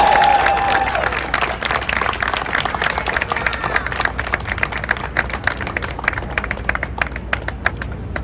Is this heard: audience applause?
yes